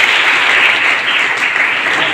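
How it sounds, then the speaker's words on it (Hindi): Nursing college students at a Rajyoga meditation session clapping loudly together, a dense, close, continuous burst of applause with no talking. "तो आपके लिए भी एक बार जोरदार तालियां"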